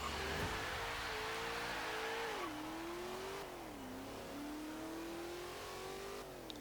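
A supercharged V8 in a 2014 HSV Gen-F GTS from Forza Horizon 3 accelerates hard, its steady droning engine note climbing in pitch through gear changes, with a supercharger whine layered over the continuous roar.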